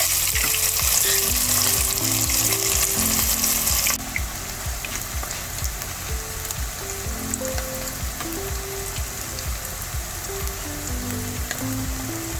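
Thick gluten-free salmon patties fry in a pan with a loud, constant crackling sizzle, alongside a low background tune playing throughout.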